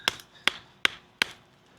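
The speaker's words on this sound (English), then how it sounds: "you can definitely hammer into some stuff if you need to, and it's gonna be fine" A camp knife is hammered into wood in four sharp, evenly spaced strikes, each a crisp woody chop with a short ringing decay, close and fairly loud with quiet gaps between blows.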